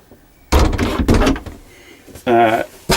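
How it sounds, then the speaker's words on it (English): A Frankia motorhome door is pulled shut with a solid thud, followed by a second clunk as it latches, while someone talks nearby. "if I come in and just close the door now"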